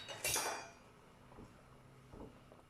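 Utensil scraping and clinking against a pot while chicken cheese pasta is stirred, one louder clatter at the start followed by two softer scrapes, close and quiet with no talking.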